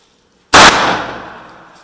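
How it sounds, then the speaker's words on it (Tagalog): A firework or firecracker goes off at a family birthday celebration: one loud, sharp bang close by, then a long fading rumble, with no talk during it. "fireworks"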